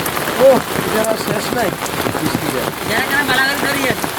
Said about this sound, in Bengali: আজকে আমরা প্রচুর বৃষ্টির কবলে পড়েছি দেখতে পাচ্ছেন